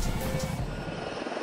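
A Chinook military helicopter flies overhead, its steady rotor and engine roar loud and continuous through a brief moment, with no voices.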